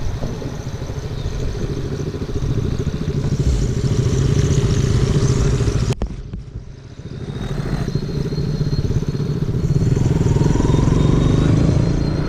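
A motorcycle ridden at night on Rohtang Pass, its engine droning loud and steady close to the microphone with rough mechanical clatter and rushing wind, briefly easing off midway before the throttle builds again.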